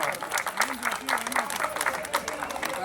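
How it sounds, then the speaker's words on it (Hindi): Applause from a crowd at a large cow-protection rally at Jantar Mantar, steady clapping filling the air while voices carry over it throughout. "गौ माता की एक जोरदार तालियां बजाकर समर्थन करिए"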